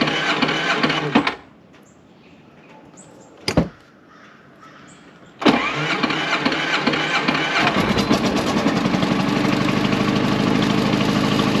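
An RV engine cranks and catches after a loud opening burst, a quiet pause and a sharp click, then settles into a steady, close, continuous idle hum with no talking.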